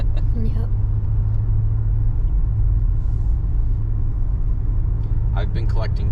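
A 1989 Lincoln Mark VII LSC with its 5.0 HO engine rumbles steadily at close range while driving, a constant low drone throughout, with brief voices breaking in at the start and near the end.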